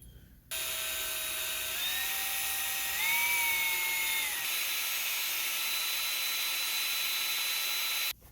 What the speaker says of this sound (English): My drill wants to keep wandering all over the place.